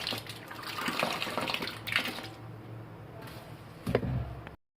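Water pours into a pot of rice being soaked for sweet zarda rice, a continuous close splashing stream with a few clunks and knocks, ending abruptly.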